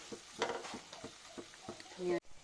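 Chopped tomatoes fry gently over a low flame, making a soft sizzle with repeated scraping stirs and a few light utensil taps against the pan before it cuts off abruptly.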